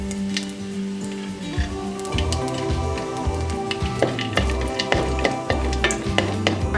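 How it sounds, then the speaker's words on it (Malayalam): Coconut pieces and cashews fry in hot ghee for a jaggery semiya payasam. A close, steady sizzle runs throughout, broken by clinks and scrapes of stirring against the pan. "തേങ്ങാക്കൊത്ത് മൂത്ത് വന്നിട്ടുണ്ട്. ഇതിലേക്ക് നമുക്ക് കശുവണ്ടി ഇട്ട് കൊടുക്കാം."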